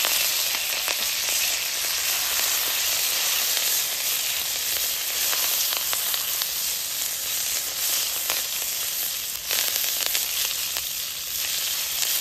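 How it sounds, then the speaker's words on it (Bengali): Curry leaves sizzle and spit in hot oil with mustard seeds, ginger and green chili, frying for a spicy vermicelli upma; a close, steady crackling hiss runs throughout with no talk. "কারি পাতাটাও হালকা একটু ভেজে নিয়েছি।"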